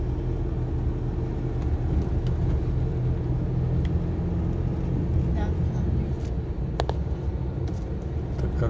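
A column of vehicles driving past on a road, a steady loud rumbling engine drone that stays even throughout, with faint higher clicks and knocks over it and no clear talk.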